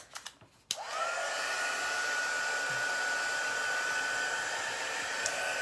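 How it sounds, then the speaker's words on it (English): A hair dryer blows on chalk paste in a craft setting, a few handling clicks and then a sudden steady whine and airy roar that holds close and constant. "But I am going to dry this."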